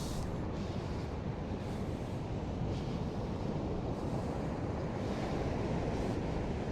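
Ocean waves roll onto the beach at Malahide, a continuous broad wash of surf with gusting wind buffeting close by, steady and unbroken with no voices.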